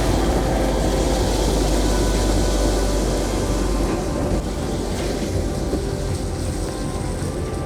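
Loud, continuous rumble and roar of Channel Tunnel shuttle trains at the terminal, a dense low mechanical drone with faint rail clatter that eases slightly after a few seconds, no talk.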